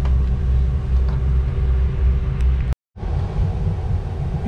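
A Mercruiser 8.2 marine engine idles steadily while warming up, a loud, continuous low rumble that drops out briefly for a split second before resuming, with no talk.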